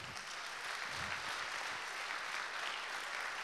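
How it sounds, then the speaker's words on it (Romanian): An event audience applauds, a dense, steady wash of clapping from many hands that holds evenly for a few seconds with no pauses. "Hai să mai aplaudăm o dată."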